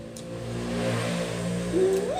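A car engine drones nearby and swells as it passes, with a rising whine near the end; no talking.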